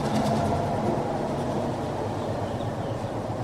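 A passenger train on Sri Lankan Railways slows to a stop at a station, with a loud, close, steady rumble and rattle of wagons that fades slightly as it decelerates.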